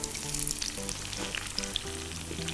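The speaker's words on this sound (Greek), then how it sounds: "το λάδι έχει πάρει άρωμα τώρα από σκόρδο και κρεμμύδι και θα ρίξω τα αυγά μου στην άλλη μεριά" Eggs crackle and sizzle loudly in hot oil flavored with garlic and onion for fried rice, a busy close frying hiss with faint stirring and no voices.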